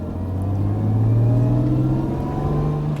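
A restored Jaguar E-Type's engine at quarter throttle: a steady, loud, close rumbling drone that rises gradually in pitch as it pulls, with no talking over it.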